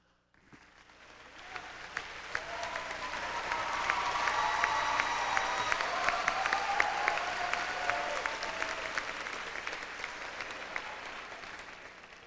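Audience applause fills a graduation ceremony hall as seniors are brought to the stage, building from scattered clapping into sustained, dense clapping that holds steady at moderate distance throughout.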